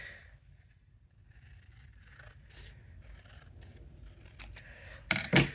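A paper trimmer slices through card paper in quiet rubbing, scraping strokes that build to a sharp, louder cut near the end, recorded close in a quiet room.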